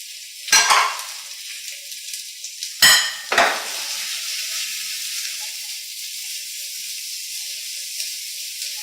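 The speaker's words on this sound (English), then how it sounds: "It's going to take about 2 minutes just to sweat them out" Onions, garlic and chilli sweat in a hot frying pan: a few sharp clattering stirs near the start, then a steady, soft, close sizzle with no talking.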